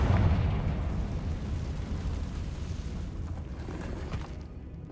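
A Confringo explosion spell goes off in the Hogwarts Legacy video game, a heavy rumbling blast with a deep low-end boom that rolls on as a sustained roar and debris rumble for several seconds, loud and close.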